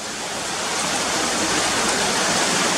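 Cotter Force waterfall pours in a steady, dense roar of rushing water, loud and close, with no voices and no change in level throughout.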